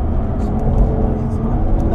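An Audi RS6 sweeps through a corner with a slight drift, a steady, close engine rumble and road noise running throughout while a voice talks over it.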